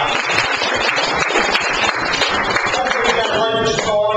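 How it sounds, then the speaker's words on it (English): A group at a weekly work meeting claps in a brisk, dense burst of applause close by, with faint voices and a few tonal sounds near the end. "Give you guys a round of applause"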